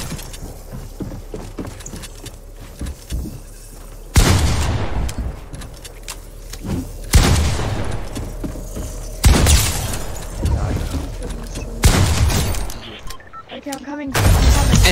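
Fortnite gunfire and loud booms hit in several heavy bursts spaced a few seconds apart, each a sharp broadband blast that trails off, with quieter game noise and a voice in between.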